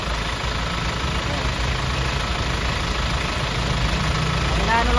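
A Hyundai Grand Starex engine idles with a steady, close, loud rumble, while smoke rises from the oil filler cap; a voice talks faintly over it.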